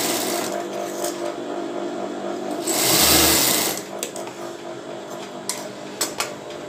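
A sewing machine stitches bra pieces folded over on both sides, whirring steadily up close. The run swells louder in the middle and ends with a few sharp clicks.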